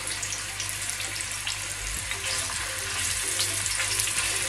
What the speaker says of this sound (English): Always remember to tip meat away from yourself into a hot pan.